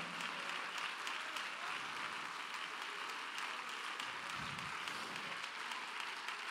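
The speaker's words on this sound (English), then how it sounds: "I believe it's okay for us to start off and clap our hands in worship." Congregation at a youth camp worship service clapping their hands, a continuous, distant-sounding wash of many claps that stays faint and even throughout, with no talk over it.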